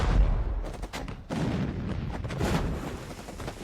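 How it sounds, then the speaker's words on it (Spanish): Heavy booming blasts roll one after another, a dense, continuous barrage of distant artillery fire with deep low rumble throughout. "Ya se oían las explosiones preliminares de la artillería aliada."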